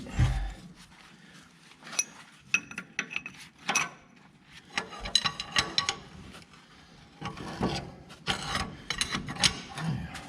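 Hand ratchet working on the bottom roller of a TD8E crawler dozer, giving several bursts of close, dry clicking in uneven groups with short pauses between, with no talk over it.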